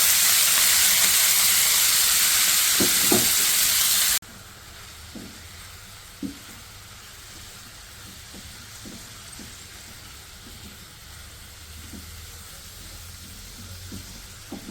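Fenugreek leaves dropped into hot oil left from frying eggs for methi egg curry, a loud hissing sizzle that abruptly drops to a quieter steady fry with occasional soft stirring taps, close up.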